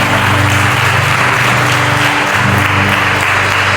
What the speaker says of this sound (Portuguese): Vamos aplaudir o Senhor, gente.